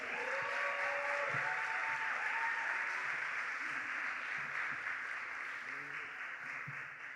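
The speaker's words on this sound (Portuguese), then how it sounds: "Uma salva de palmas para Alex Zudão." An audience claps for a speaker at an environmental education panel, steady but faint and distant, with some voices murmuring underneath.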